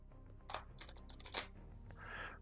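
A deck of cards for a Lord of the Rings card game is shuffled, making faint, quick clusters of papery flicks and riffles, then a short soft rustle.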